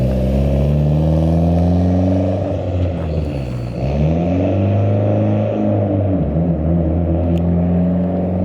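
A Mitsubishi Evo with a manual gearbox drives past, its engine a loud, close rumble that rises and falls as the revs change, with a short dip partway through and no talking.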